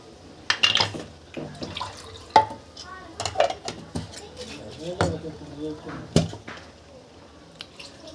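Water is poured into a tamarind-soured curry and stirred, with a spoon scraping and clinking against the pot in a run of close, uneven knocks and splashes.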